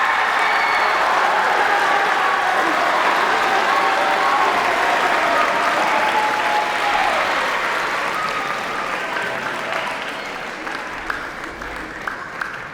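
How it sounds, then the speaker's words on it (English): Concert audience at a sixth-grade school fall concert gives a long, full round of applause, loud and sustained for most of the stretch before gradually tapering to a few scattered claps. "Can we give them a huge round of applause?"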